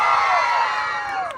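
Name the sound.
audience cheering and shouting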